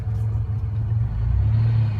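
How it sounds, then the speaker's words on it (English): Manual-transmission car pulling away in first gear: a steady low engine rumble that holds even and close throughout, with no voices. "slowly release the clutch, get rolling."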